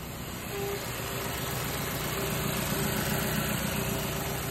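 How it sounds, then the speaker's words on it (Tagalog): A Mazda CX-7 engine idles steadily during an idle speed relearn, with a low, even rumble and faint mechanical hum, unchanging and nearby, no voices. "Paandarin nyo yung makina. Yan. Umaandar na yung makina."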